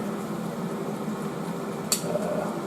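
An air fryer cooks trout with a steady fan-like whir and hum, continuous and moderately close, with one brief sharp click partway through.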